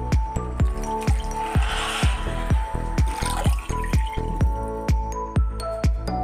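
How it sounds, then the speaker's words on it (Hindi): Water poured onto lentils and rice for khichdi, a close wet pattering and dripping in a fast, regular rhythm that runs throughout with no voice. "अब हम इसमें पानी डालेंगे।"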